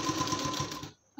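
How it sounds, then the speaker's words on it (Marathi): A sewing machine stitches a strip onto a blouse sleeve with a rapid, even close-up whirr that stops abruptly just before the end. "बरोबर स्ट्रिप ठेवून बरोबर स्टिच मारत चालायचं."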